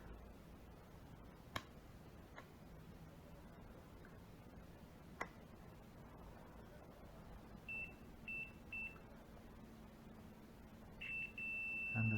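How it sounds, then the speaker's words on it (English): A UNI-T UT136C handheld digital multimeter in continuity-test mode gives several short, steady electronic beeps, then one longer sustained tone near the end, over a quiet background with a couple of faint clicks. "Now let's try to test the sound of continuity."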